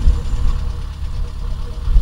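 Kubota tractor engine running steadily at a low idle-like rumble while reversing to get out of being stuck, a continuous heavy low throb with faint knocking and no voices.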